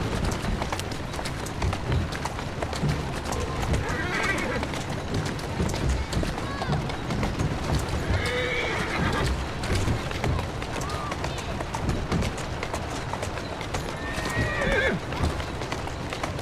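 Hooves clip-clop steadily at a gallop while a horse whinnies several times in Assassin's Creed Syndicate; people talk over the running hooves.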